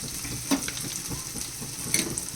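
Surmai kingfish frying in a hot pan, a steady close sizzle broken by a couple of sharper scraping clatters as the pieces are turned over, with no one speaking.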